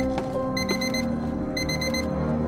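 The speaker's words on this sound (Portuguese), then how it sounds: "Toca um novo despertador." An alarm clock rings in two quick bursts of rapid, chirping beeps over a steady low background hum.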